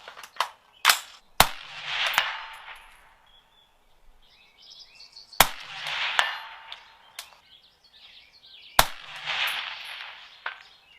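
Rifle shots fired at a 200-yard target with a prism scope: sharp cracks recurring across the clip, each followed by a broader rolling echo, with faint birdsong in the quiet gaps between.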